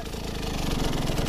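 A motorcycle engine runs close and loud in a steady, throbbing rev with a rapid pulsing beat and no voices over it.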